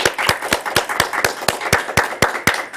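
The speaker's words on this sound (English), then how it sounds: "Let's give our Toastmaster for this evening a good round of applause" A round of applause for the evening's Toastmaster at a Toastmasters club meeting in Cincinnati, heard as sharp, evenly spaced claps in a quick steady rhythm, close and fairly loud, with no talking.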